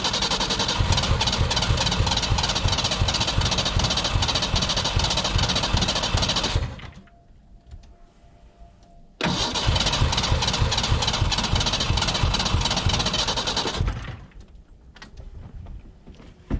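Engine of a Ford Ranger truck abandoned in the woods for years, roaring loud and rough for several seconds, cutting out, catching again for another long burst and then dying, with no talk.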